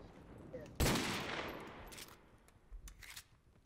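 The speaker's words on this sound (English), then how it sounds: "I'm just shooting just to distract him." Gunfire in Call of Duty 4: Modern Warfare Remastered during an online 3v3 match: a sudden loud burst of shots that decays over about a second, then a few fainter follow-up reports, with a voice faintly present.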